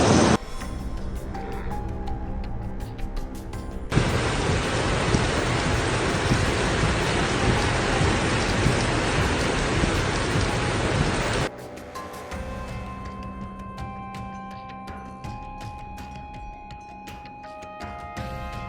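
Heavy rain roars in a dense, steady downpour during a thunderstorm in Dubai through the middle of the clip, then cuts off abruptly into quieter surroundings.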